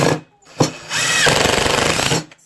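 A power drill drives pocket screws into a DIY organizer for cosmetics and perfume, a short burst followed by a sustained, loud whirring run of about a second and a half, with no talking.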